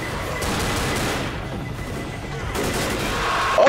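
Gunfire in Left 4 Dead, rapid sustained firing blending into a dense rattling roar over low rumble, steady and loud with a burst of sharper shots at the end.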